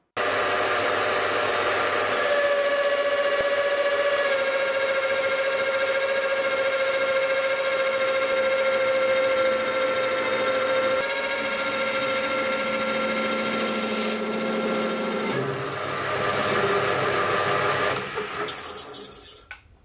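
A milling machine cuts a workpiece at a deeper depth of cut, a steady loud tonal whine with harmonics and grinding chatter that shifts in pitch partway through, ending in rougher clattering.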